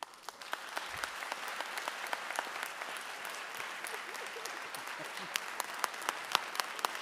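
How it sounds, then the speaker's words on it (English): Applause for a teacher at a school district's Teacher of the Year celebration, a steady crowd clapping with sharp individual claps standing out throughout, moderately loud and continuous. "Big round of applause for Ms. Brown"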